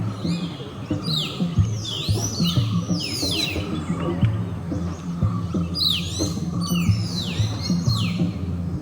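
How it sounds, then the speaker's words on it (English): Many birds call and chirp around a flowering silk cotton tree in South India, with repeated sweeping whistled notes over a busy chorus of smaller chirps, fairly close and lively, with no voices. "birds kept on coming and going"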